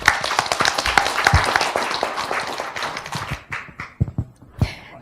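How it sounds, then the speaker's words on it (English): Audience applause after a workshop presentation on subsea cables, with scattered, distinct hand claps that start fairly full and then thin out into a few isolated claps toward the end. "Another round of applause."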